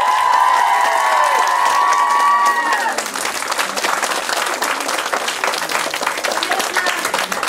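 An audience applauds at a children's play staging of a princess story, a loud sustained wash of clapping from a full hall, with a voice speaking over the start before the clapping continues alone.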